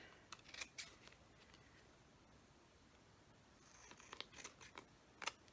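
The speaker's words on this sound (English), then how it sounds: "I'm just going to trim along the edges and trim off those little bits that are sticking out" Several quick crisp snips of scissors trimming the edges of paper for a black envelope folio, in two short bursts separated by a quiet pause, close and fairly faint.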